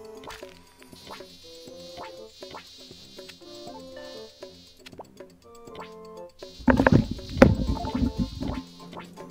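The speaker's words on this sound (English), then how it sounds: "I'm doing a bee minigame about shooting these honeys at bees" Buzzing bees in the bee minigame of the George of the Jungle DS video game ride over plinking game music, swelling to a loud, dense burst near the end.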